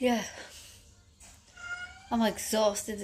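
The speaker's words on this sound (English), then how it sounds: "Excuse the cat in the background." A cat meows twice, loud and close, one call opening and another near the end, with a person talking briefly in between.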